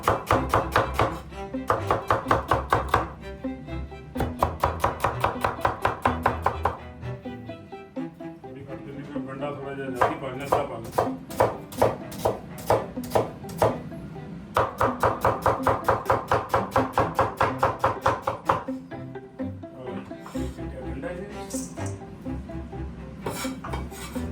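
Onion being chopped finely on a board with a knife, fast bursts of rhythmic crisp taps separated by short pauses, loud and close.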